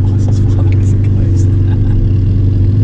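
A straight-piped Lamborghini Murcielago LP640 with a 700 hp engine idles loud and close in a steady, throbbing drone as people talk over it.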